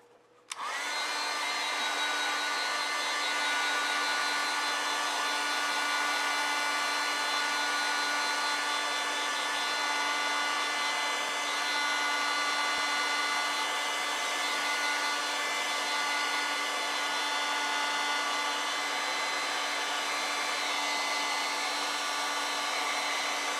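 A hair dryer blows steadily on wet watercolor paint, a loud, constant whooshing drone with a fixed motor hum that starts abruptly and runs unbroken for over twenty seconds with no talking.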